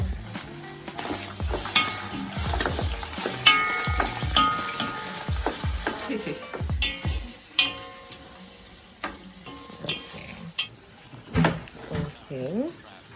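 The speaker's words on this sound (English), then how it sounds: "We are frying the beef." Beef sizzling as it fries in a pan while a utensil scrapes and stirs repeatedly, clattering against the pan, with a person talking intermittently.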